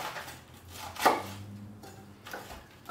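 A very sharp knife cuts the core out of a cabbage with one firm crunching chop near the middle, then a few softer cuts and handling sounds close by, with no talk.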